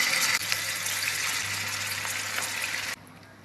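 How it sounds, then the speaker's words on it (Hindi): Mutton pieces sizzling in hot oil in a karahi, a loud, steady frying hiss that carries on without a break and drops off sharply near the end. "अब कढ़ाई में हमने ऑयल डालकर इसको गर्म कर लिया है। अब इसमें मटन डाल लेंगे।"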